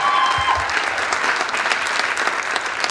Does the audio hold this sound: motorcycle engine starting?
no